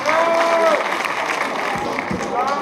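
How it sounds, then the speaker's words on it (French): An audience at a cocktail event for a song release applauds and cheers, a rough crowd clapping mixed with voices and whoops, fairly close and loud throughout. "applaudissements pour lui"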